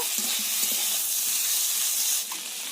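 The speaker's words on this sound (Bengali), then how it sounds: "আর কিছুক্ষণ একটু ভাজা ভাজা করে নেব" Steady, loud hissing sizzle of spices with salt and turmeric frying in hot oil in a pan, continuous and close, with faint clatter underneath.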